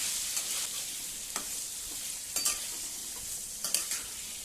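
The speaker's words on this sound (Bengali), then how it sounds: "এবার 2 থেকে 3 মিনিটের জন্যে আমি আলুটাকে হালকা করে ভেজে নেব।" Potato pieces frying lightly in a pan with spices for a hilsa fish curry, a soft continuous sizzle broken by a few sharper scraping stirs.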